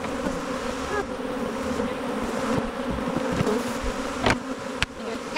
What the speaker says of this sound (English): Bees are none too happy when you come and take what they've worked for all year.